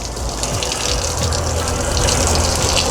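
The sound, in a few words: water running from an RV outside shower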